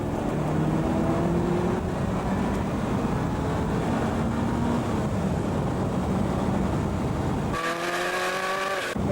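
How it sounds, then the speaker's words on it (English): A racing car engine at high revs accelerating down a straight, loud and close with rising harmonic tones, then an abrupt gear change and higher-pitched climb near the end. "And now we'll be accelerating down the straight."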